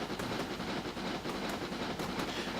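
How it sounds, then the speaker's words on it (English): Steam train running on a North Wales narrow gauge railway in a train simulator game, with a steady, continuous rolling rumble and faint rhythmic clicks from the wheels on the rails, loud and close throughout. "We're in a steam train."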